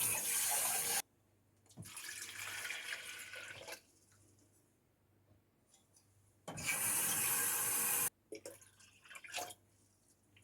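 Tap water running into a vessel in a kitchen, measured out for ramen broth, in three separate steady gushes with quiet pauses and faint drips and clinks between them.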